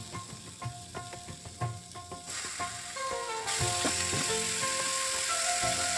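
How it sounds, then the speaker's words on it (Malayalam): Pieces of chicken for an easy chicken curry drop into hot oil, and a loud, steady sizzle surges midway and stays strong, with a few light clinks of a stirring utensil close by. "ഇനി നമുക്കിതിലേക്ക് ചിക്കൻ ആഡ് ചെയ്ത് കൊടുക്കാം."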